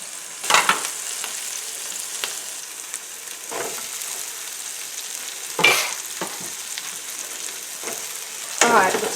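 Onion and peppers frying in a pan hiss steadily while a utensil stirs them, giving several loud scraping sweeps at uneven intervals, heard up close and with no speech.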